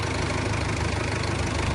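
A tractor stuck in a field, used for spreading soil and pulled at with tow chains, idles steadily. Its continuous low rumble holds an even tone throughout, with no talking.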